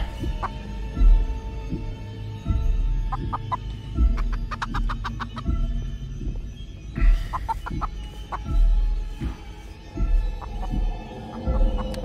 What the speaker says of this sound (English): Chicken's name should be Cluck Cluck, probably